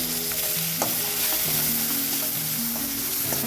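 Curry leaves and tomato sautéing in a pan for a seaside fish curry, a steady close sizzle broken by scraping stirs of a spoon against the pan, with no voices.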